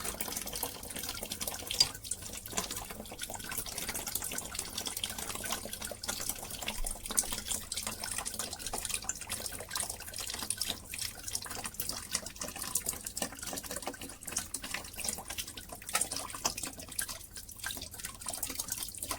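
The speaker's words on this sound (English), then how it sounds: "Put the bucket in position and turn on the drain valve." Water drains from the drain valve of a Fernox TF1 Omega central heating filter into a bucket, a steady close trickling and splashing that runs on without a break, with no talk.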